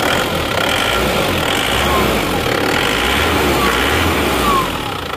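A repaired Isuzu Panther Grand Touring engine runs steadily, a loud continuous drone with broadband mechanical noise throughout, heard up close without talk.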